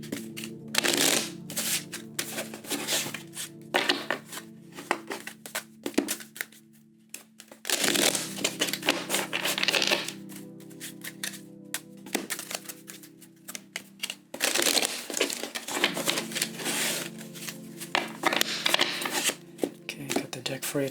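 Tarot cards being shuffled by hand in three rounds, crisp riffling and flicking bursts close up, with a voice talking over much of it between shuffles.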